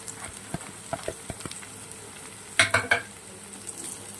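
Curry leaves and green chillies frying in hot oil for a mutton curry with cucumber, a soft crackling sizzle with scattered pops and a brief burst of louder spluttering near the end, close and without voices.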